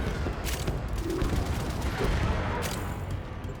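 Gunner firing at enemies in the video game Warframe, a rapid sustained barrage of bursts and booms, loud and continuous throughout.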